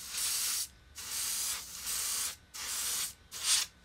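Spectraflame paint sprayed onto a Hot Wheels Redline casting in five short hissing bursts of about half a second each, separated by brief pauses, close and steady with no talking.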